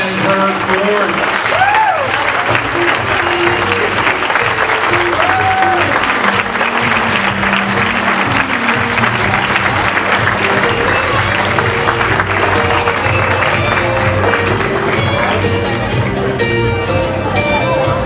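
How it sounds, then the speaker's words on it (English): Sustained applause fills a hall at the 2015 Windsor Shad Derby coronation ball for the Derby Queen and her court, dense, loud clapping with crowd murmur and some speech that runs unbroken for the full length. "How about a round of applause for the Queen and her court?"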